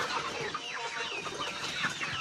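Several young laying hens cluck and chatter continuously at close range around a feeding trough, with overlapping busy calls and no talking.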